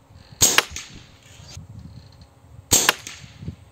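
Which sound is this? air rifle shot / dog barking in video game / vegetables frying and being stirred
air rifle shot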